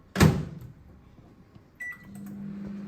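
A microwave oven heating a homemade vegetarian pizza: a sharp click or door thud, then a quiet stretch, a brief beep, and a steady low hum as the oven runs.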